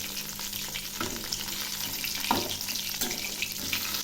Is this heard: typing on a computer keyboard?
no